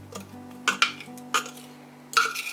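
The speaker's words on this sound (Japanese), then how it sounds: "さっきのすりおろしを混ぜていこう。" Grated ingredient for koji seasoning is mixed in a bowl, making a few scattered clinks and scrapes of utensil against the bowl, soft and close in a quiet kitchen with a low steady hum behind them.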